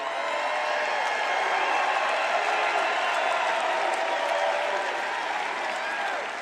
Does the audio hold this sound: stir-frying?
no